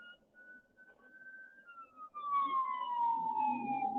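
An ambulance siren wails in a steady rising-and-falling tone at a city intersection, starting faint and swelling louder and closer as the vehicle pushes through against a red light, with traffic rumble underneath.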